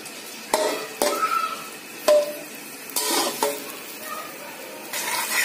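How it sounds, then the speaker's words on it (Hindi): Onions frying in about half a cup of oil in a pot for chicken yakhni pulao, with a steady sizzle broken by several sharp scraping stirs of a spoon against the pot. "इसमें डालेंगे हम प्याज, अब हम करेंगे प्याज को"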